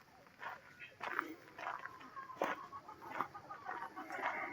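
Chickens being let out of their coop on a cloudy, cool morning, with soft scattered clucks, scratching and shuffling close by over a quiet outdoor background, while someone talks throughout.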